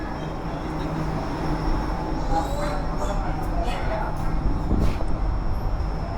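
A Jakarta metro train rolls along with a steady, loud rumble and a high whine, with faint voices in the carriage beneath the running noise.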